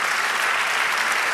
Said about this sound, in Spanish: Dele aplauso fuerte.